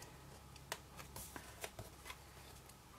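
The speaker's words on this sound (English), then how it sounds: "Peel off the backing." Backing paper peeled off a small chunk of adhesive foam dimensional while making favour jars, heard as a series of faint, brief crackly ticks and rustles close up, with no talking.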